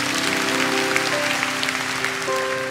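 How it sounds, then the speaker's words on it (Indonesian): Church congregation applauding during a sermon, a brief steady wash of clapping heard close and fairly loud, with a low sustained instrumental tone underneath. "Kasih tepuk tangan untuk Tuhan."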